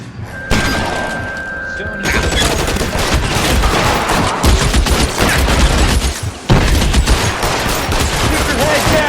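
Rapid gunfire fills a LA Noire shootout: dense, loud volleys of shots crack and thud almost continuously, with shouted voices mixed in among the bursts.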